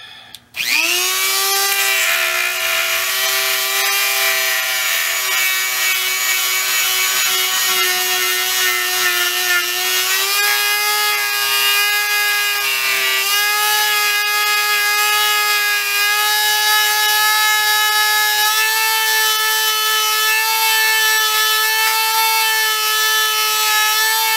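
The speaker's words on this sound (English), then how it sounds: "on the sides, we're going to polish it out and kind of bevel it to let my finger slide in" A power tool polishes and bevels the sides of a workpiece, giving a steady, loud, high-pitched whine that holds without a break from start to finish, with no talk over it.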